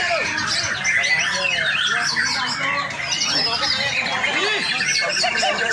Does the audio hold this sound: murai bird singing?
yes